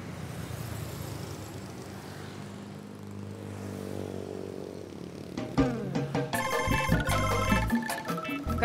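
A mobile phone ringtone breaks in over a low rumbling background, a bright melodic ring with repeating notes that carries on loud and close for the last few seconds.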